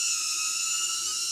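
A HoverAir X1 Pro Max drone flying nearby, a steady high-pitched electric whine with a constant tonal hum, loud and unbroken throughout, with no voices.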